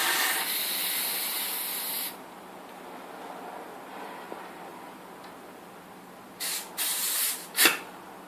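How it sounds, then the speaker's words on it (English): A CO2 canister hisses loudly for two seconds as it inflates a bicycle tyre inner tube through the valve, then quiet follows with light fiddling before several short sharp bursts of gas hiss near the end. "tighten it on until you hear a hiss. That means the canister's been punctured."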